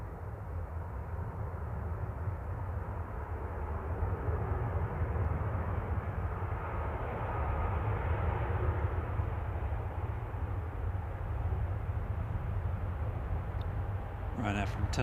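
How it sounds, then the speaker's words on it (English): A Ryanair airliner arriving from Tenerife touches down at Manchester Airport, a broad, steady jet roar that swells gradually and holds at a distance for the whole stretch. "Ryanair from Tenerife touching down for flight 4331"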